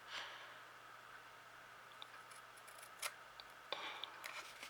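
Scissors snip away the corner squares of folded paper for a craft project, giving a few faint, close, crisp cuts and rustles spaced irregularly over a quiet background.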